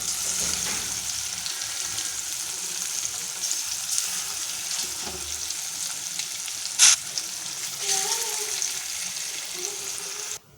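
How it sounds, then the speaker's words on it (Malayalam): Cleaned fish frying in a pan give off a continuous hissing sizzle with occasional spatters and a brief sharper crackle, close and fairly loud, with no talk over it. "ഓരോ മീനായിട്ട് പൊരിച്ചെടുക്കാം."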